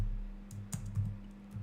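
Keys tapped on a computer keyboard while football scores are entered, a few soft scattered clicks over a steady low hum, close and quiet with no talk.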